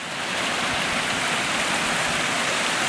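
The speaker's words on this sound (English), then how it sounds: "Some lovely little waterfalls in a little gorge here." Small waterfalls tumble through a little gorge beside a hill burn on a mountain ridge walk, giving a steady, close, broadband rush of falling water with no pauses and no voices.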